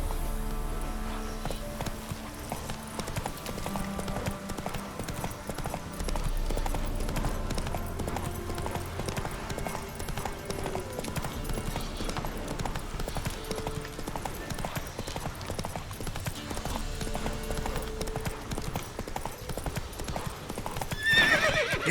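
Horse hooves clip-clop steadily in The Witcher 3 video game, with whinnying and neighs over game music and ambience throughout.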